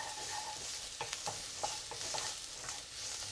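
Chopped garlic sizzles in sesame oil in a wok for a pork stir-fry, a soft steady frying hiss broken by several light stirring clicks, fairly quiet and free of talk.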